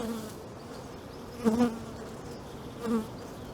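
Honey bees hum in a soft, steady drone while a hive is opened for its first spring inspection after winter, with two brief louder swells as bees pass close.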